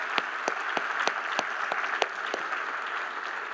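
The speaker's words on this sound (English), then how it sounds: "One more round of applause for Pat" Audience applause fills a hall at the 2023 Edison Awards gala, a steady wash of clapping with a few sharper claps standing out, moderately loud and continuous throughout.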